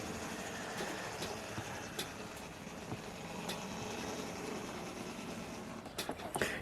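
A model railway locomotive runs on a Clevedon branch layout with early diesels, making a faint, steady mechanical rumble with occasional soft clicks of wheels over track joints, distant and with no talking.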